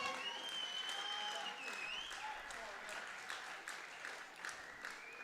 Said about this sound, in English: there's plenty of people cheering and clapping to try and get her over the line here.